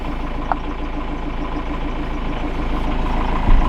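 A camper van's engine idles close by in a steady, even rumble with a faint rhythmic pulse, holding constant throughout and swelling slightly toward the end, with no voices over it.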